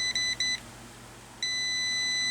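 A UniT 116A multimeter on continuity test gives high electronic beeps: two short chirps, a pause of near silence, then one sustained steady tone, fairly faint and close.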